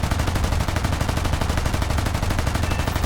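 Heavy .50 cal machine gun in War Thunder, mounted on an M16 half-track, fires a continuous rapid burst at an aircraft, loud and sustained for the whole stretch with no talk.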